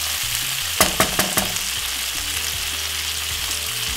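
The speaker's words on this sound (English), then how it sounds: "So we're gonna allow this to fry up for about 4 to 5 minutes until the veg cooks." Vegetables with fresh thyme fry in a pan with a loud, steady sizzle, broken by a few quick clinks of stirring early on.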